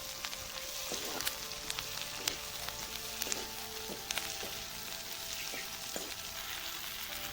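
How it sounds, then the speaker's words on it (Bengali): Onions and other ingredients fry in oil until browning, a steady quiet sizzle with occasional soft stirring scrapes and small pops. "আমি এই সব কয়টা উপকরণ বাদামি কালার করে ভেজে নেব।"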